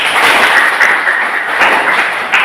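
A class of high school students applauds in a classroom, a steady wash of many hands clapping together that holds evenly from start to finish.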